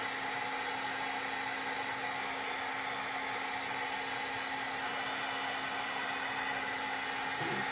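A heat tool blows steadily and continuously to melt gold embossing powder for a sunflower stamped card, a constant airy whir with no talk over it.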